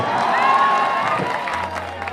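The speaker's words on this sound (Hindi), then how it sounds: "मैं चाहता हूं कि एक जोरदार ताली से इनका स्वागत करना चाहिए आप सबको" An audience at a Bhojpuri stage show with a singer claps and cheers to welcome a guest, a dense continuous wash of applause with whoops and voices mixed in.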